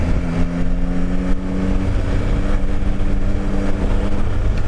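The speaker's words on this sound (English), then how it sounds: "Just listen to that engine." A Yamaha Tracer sport touring motorcycle's engine drones steadily while riding, loud and close with a low rumbling hum mixed with wind, no talking.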